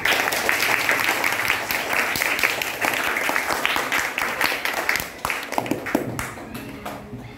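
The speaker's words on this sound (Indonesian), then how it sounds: "tepuk tangan semuanya." A class of grade 4 students applauding together, a dense, loud, continuous patter of many small hands that thins slightly near the end, with some voices mixed in.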